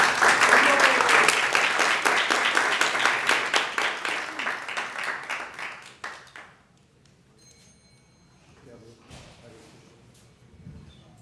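Audience applause at a memorial anniversary ceremony, a dense burst of clapping that thins into scattered claps and fades out by about six seconds, followed by near quiet with a few faint stray claps.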